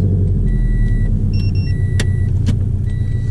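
A lowered car with a catless exhaust rumbles steadily while driving, with a deep, throaty exhaust drone, accompanied by a few short electronic beeps and chimes.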